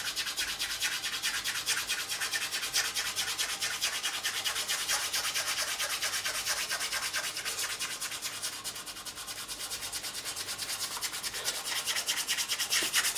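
Sandpaper rubs rapidly and steadily over guitar fret ends in quick, close back-and-forth strokes, producing a continuous raspy scratching with no pauses.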